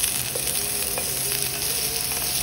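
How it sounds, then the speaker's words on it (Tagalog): Onion, ginger and garlic sauté in a pan of hot oil, giving a continuous bright sizzle with light stirring taps. "At ilagay natin ang ating onion, ginger, and garlic."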